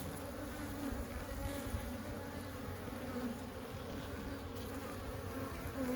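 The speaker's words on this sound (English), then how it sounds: "These bees are carnolians, they call it." Steady low buzzing of many Carniolan honeybees, close and continuous, with no voices.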